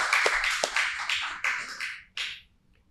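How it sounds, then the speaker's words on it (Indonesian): A short burst of applause at a podcast recording: a few people clap briskly close by for about two seconds, then it stops abruptly. "Tepuk tangan dulu."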